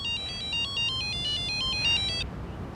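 A mobile phone ringtone plays a bright repeating electronic melody of rapid pulsed tones, fairly loud and alone, stopping abruptly near the end.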